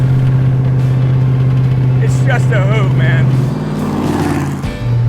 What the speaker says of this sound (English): Driving an old 100-year-old hot rod through the hills.